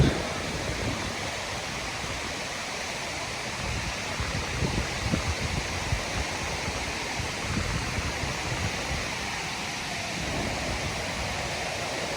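The river and waterfall at Linton Falls near Grassington in the Yorkshire Dales give a continuous rushing roar of water, loud and even, with a few small surges and no speech.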